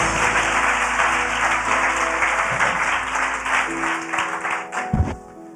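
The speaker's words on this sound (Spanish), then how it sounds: "Denle un aplauso fuerte," A church congregation applauds loudly in a dense, sustained burst of clapping that thins and fades out near the end.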